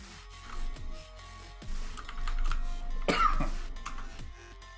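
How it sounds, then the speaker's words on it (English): A short, dry cough or throat clear breaks through quiet background noise, with a few soft thumps before and after. "Oh, a dry cough."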